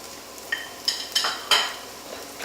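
Onions with garam masala, cumin and coriander stirred in a frying pan: a soft sizzle beneath four or five scraping strokes of a utensil against the pan, close and moderately loud, with no talking.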